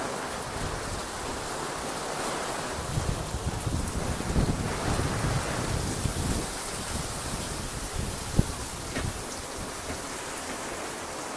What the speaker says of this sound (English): I'm drenched in rain.